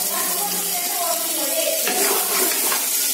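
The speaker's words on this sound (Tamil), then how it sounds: "உப்பு போட்டதுக்கு அப்புறம் நல்லா மிக்ஸ் பண்ணி விட்டுக்கோங்க" Tomatoes and salt are stirred in a frying pan while cooking chicken biryani, giving a steady close sizzle with soft scraping strokes of the spoon throughout, unbroken and even in level.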